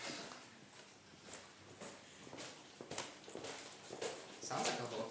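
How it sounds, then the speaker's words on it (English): Hooves clip-clop in a quiet, irregular patter, several light strikes spread across a few seconds at moderate distance with faint background noise. "Sounds like a horse."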